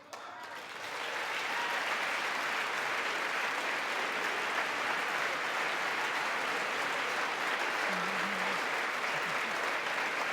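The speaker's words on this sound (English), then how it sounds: "applaud for Ronald Reagan" An audience in the chamber at the election of a House Speaker breaks into sustained applause that swells within the first second and holds steady and dense, with a brief voice rising out of the clapping near the end.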